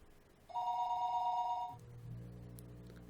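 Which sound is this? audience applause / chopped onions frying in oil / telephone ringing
telephone ringing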